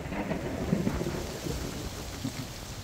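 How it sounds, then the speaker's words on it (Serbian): Low thunder rumbles faintly beneath a dense, steady hiss of rain as a storm approaches under a darkened sky, with no voices present. "Evo nam opet nevremena."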